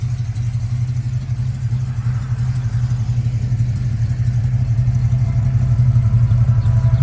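A 1973 Dodge W200 4x4 pickup with a rebuilt 360 V8 and automatic transmission idles close by, a loud, steady low rumble with a faint rhythmic clatter and no talk.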